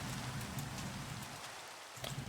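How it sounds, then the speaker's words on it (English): Steady rain hisses down in a video game, a dense even wash of drops with no talking, briefly thinning for a moment before resuming at full strength. "I would really like the rain to go away."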